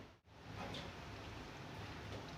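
Water boiling in a cooking pot, ready for rice for beef biryani, makes a steady, close bubbling hiss that runs throughout after a brief drop at the start.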